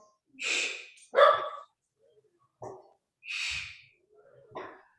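A dog barks during a home Pilates reformer workout, giving about five short, close barks in an uneven rhythm with breathy snorts between them and no one talking.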